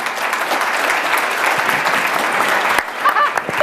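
Audience applause fills the room, steady dense clapping from a crowd that swells slightly near the end and continues without talk.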